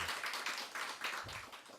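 A church congregation clapping to welcome newcomers, a dense burst of many hands applauding together, moderately close and steady for a couple of seconds.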